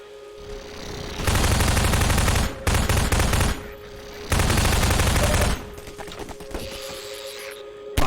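Loud automatic gunfire in Half-Life 2 comes as rapid bursts of about a second each, separated by short pauses, close and dominating, with no talk.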